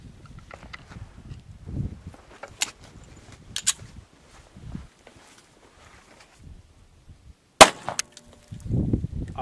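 A 45 ACP Allegiance OneStrike frangible round fired through a sheetrock test panel gives one sharp, loud gunshot crack near the end, set among scattered handling clatter and light shuffling noises.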